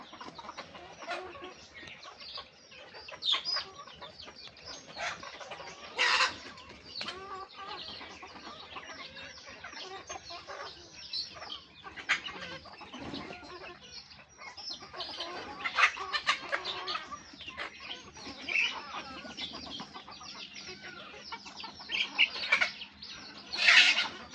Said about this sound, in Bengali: দেখা কিভাবে মুরগি গুলা করে উঠে গেছে